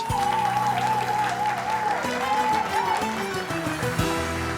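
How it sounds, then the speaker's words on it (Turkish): A studio audience at a television game show applauds loudly and continuously, dense clapping filling the room while music plays underneath. "ikinci çiftimiz için kocaman bir alkış"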